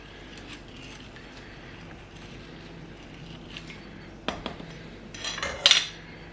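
A utensil stirs and breaks up cooked rice in a dish while preparing a General Tao meal, with soft scraping, then a few sharper clinks and clatters toward the end, close and fairly quiet, with no talking.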